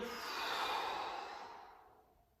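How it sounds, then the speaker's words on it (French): A single long, slow exhale during a wave-like qigong breathing exercise, close and soft, swelling and then tapering off to silence. "Le souffle qui ressort."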